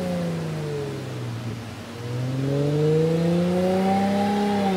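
An Infiniti G37 fitted with DC Sport headers and a Cobra exhaust revs up close, dipping briefly before climbing into a strong, smooth, rising engine note that holds loud and steady to the end, with no voices.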